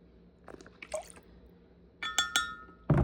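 Witch hazel poured by the tablespoon into a small glass container for a car diffuser, brief close drips and trickles with light glassy clinks, quiet between them.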